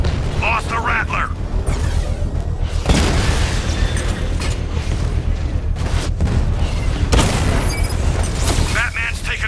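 A drone blows up in a Batman video game, heavy booming blasts and rumbling debris that run through a dense, loud mix of game effects.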